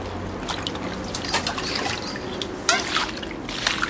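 Running water trickles and splashes over live loaches being rinsed in a kitchen, a steady close dribble with a few brief louder splashes.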